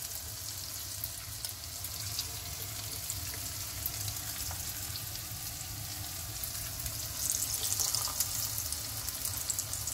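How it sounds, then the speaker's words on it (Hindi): Lentil dumplings (dahi vade) frying in a kadhai of hot oil, giving a steady, continuous sizzle and crackle that stays close and even throughout, with no talking. "इस तरह से आपने ये छोड़ना है तेल में"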